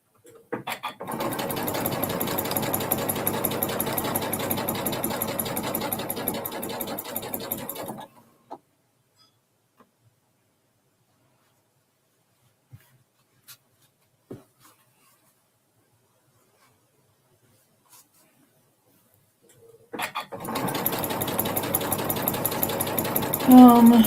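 A sewing machine chain-pieces fabric patches, running in a steady, fast whir for about eight seconds. It then falls quiet for a long pause with a few faint clicks before the stitching starts up again.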